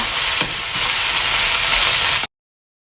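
Vegetables for fried noodles stir-fry in a hot pan, giving a loud continuous sizzle with a brief stirring scrape near the start before the sound cuts off abruptly.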